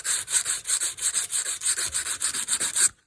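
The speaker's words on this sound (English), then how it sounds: "took a piece of sandpaper, fine sandpaper, and folded it in half" Fine sandpaper, folded in half, scrubs clogged burner orifices of a wall furnace in quick rhythmic back-and-forth strokes, a steady close raspy rubbing that stops abruptly at the end.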